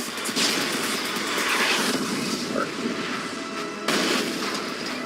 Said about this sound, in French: faites exploser votre voiture en gonflant le crash breaker. Plus vous le gonflez vite, plus l'explosion sera violente.